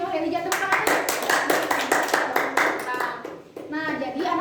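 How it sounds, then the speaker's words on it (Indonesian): Schoolchildren clap in a classroom during a microteaching lesson, sharp rhythmic claps in a quick steady beat for a few seconds before stopping, with a teacher's voice heard at the start and end. "Tepuk tangan."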